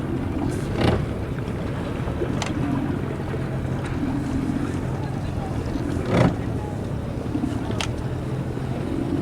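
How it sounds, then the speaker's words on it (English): Sailboat racing on Deep Creek Lake in gusty wind: steady rushing wind and water wash with occasional louder gusts and creaks, with faint talk in the background. "Another beautiful day of sailing on Deep Creek Lake."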